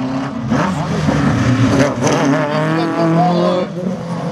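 Slalom race car at the 2018 Saint-Lô event setting off, engine revving hard and climbing through gears with a brief tire squeal, loud and close, with an announcer talking over it.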